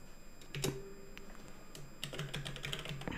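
Keys click on a computer keyboard as a password is entered in a Linux terminal, a few quick soft taps in a quiet room.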